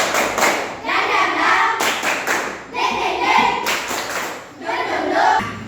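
A school class performs the 'tepuk dingdong' clapping chant, rhythmic bursts of group hand claps and thumps in repeated phrases, with children's voices chanting along between short pauses.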